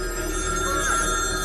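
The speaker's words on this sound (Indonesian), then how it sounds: "Hingga tak lama mereka mendengar suara telepon." A telephone in a mysterious small town in a film rings with steady, sustained electronic tones, loud and continuous over a faint background hum.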